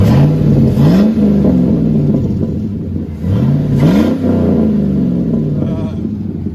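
A 2005 Chevy Silverado with a 5.3L V8 and straight-pipe exhaust revs twice, loud and close, each burst climbing and falling over a rumbling idle, with a brief voice in the background.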